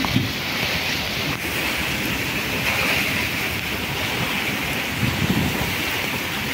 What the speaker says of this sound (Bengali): এরকম বৃষ্টি তো আমি কোনদিন দেখি নাই।